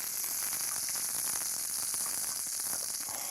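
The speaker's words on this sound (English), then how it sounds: "I love the sound of sizzle, sizzle." Chicken pieces sizzle in a hot pan with a continuous, hissing crackle, fairly faint and steady throughout, with no voices over it.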